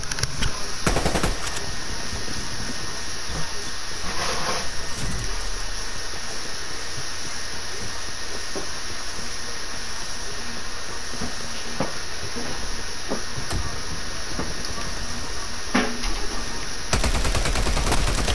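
Sustained automatic gunfire from the Call of Duty Black Ops Cold War alpha, a dense continuous rattle of shots with occasional louder bursts and a steady hiss underneath, loud and close throughout.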